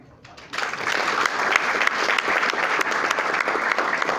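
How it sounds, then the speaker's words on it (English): At a government civil service retreat, a crowd breaks into steady, loud applause that starts abruptly and continues evenly without letup. "please give yourselves a round of applause"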